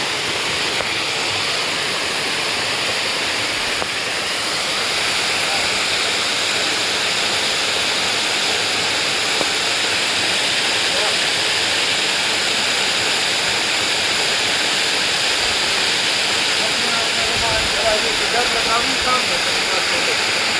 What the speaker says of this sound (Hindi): ये जो वाटरफॉल है अभी तक ये बेनाम है